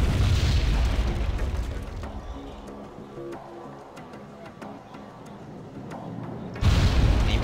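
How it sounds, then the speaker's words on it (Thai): In the video game Wargame: Red Dragon, deep, rumbling booms of artillery fire roll through a continuous battle din, with scattered sharp cracks and a heavier blast near the end. "ปะทะกันด้วยปืนใหญ่อยู่นะครับ"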